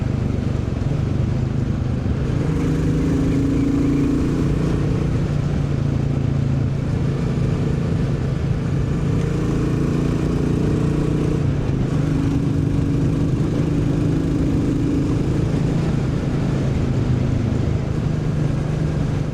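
A Royal Enfield Bullet 350 motorcycle fitted with a Hitchcock's decat pipe on a ride, its engine a steady thumping drone with mild swells in revs and wind noise, continuous and close.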